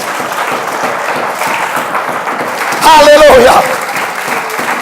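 Church congregation clapping and cheering at a pastor's sermon, steady applause mixed with voices and a shouted exclamation, loud and close throughout.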